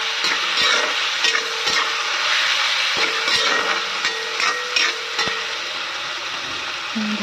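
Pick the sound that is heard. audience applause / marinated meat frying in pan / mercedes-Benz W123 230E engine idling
marinated meat frying in pan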